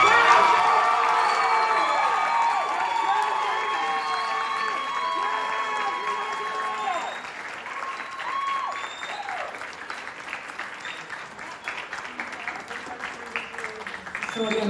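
Audience at a high school spring jazz band concert applauds and cheers for graduating seniors, sustained clapping with whoops and shouts throughout, loudest at the start and tapering slightly.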